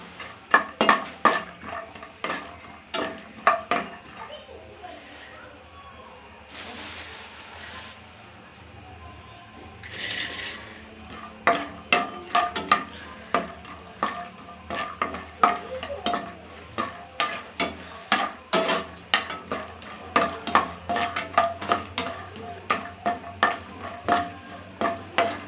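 Flattened rice (avalakki) fries in a pan while being stirred. A soft sizzle sits underneath, and sharp, rhythmic scraping strokes come up close, with a short pause in stirring midway before they resume quickly.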